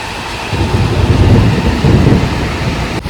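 Heavy unseasonal rain pours down outdoors with deep rolling thunder swelling beneath it and wind, a loud, continuous wash of storm noise with no voices.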